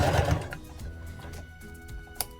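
A sewing machine runs close up in a short, steady whirring burst while back stitching a seam on bear overalls, then quiets down.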